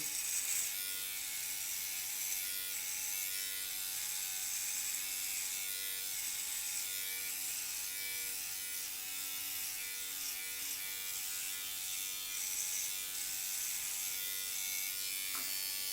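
An MLT electric trimmer, a copy of the Philips OneBlade, buzzes steadily as it shaves, a close, continuous high whine with small shifts in pitch as it moves over hair.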